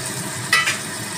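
A prawn curry simmers in a frying pan with a little water and green chillies, a soft steady sizzle broken by a brief louder splash and stir in the middle.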